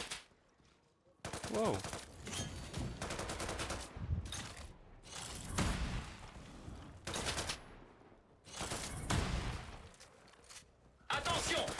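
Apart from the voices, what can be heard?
machine gun fire in the video game Off the Grid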